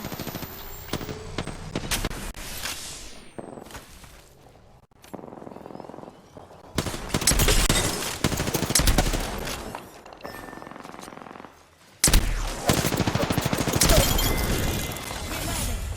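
Bursts of rapid automatic gunfire in the video game Apex Legends, loud clustered volleys broken by short quiet gaps, with no talking over them.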